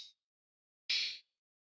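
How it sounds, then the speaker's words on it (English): Two open hi-hat samples in FL Studio panned hard left and right for a trap beat: a short faint bright tick, then a louder, crisp airy hiss sustaining about a third of a second before cutting off, with no talking. "We have two open hi-hats that panned left and right."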